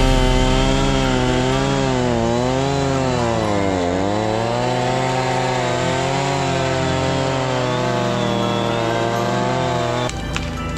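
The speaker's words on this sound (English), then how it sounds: "giving his son a quick lesson on how to properly use a chainsaw to cut these trees down" A chainsaw roars loudly and continuously, its engine pitch rising and dipping as it bites through tree trunks during land clearing, then cutting off near the end.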